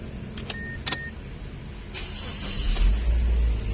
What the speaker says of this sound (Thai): สตาร์ททีเดียวติดนะคะ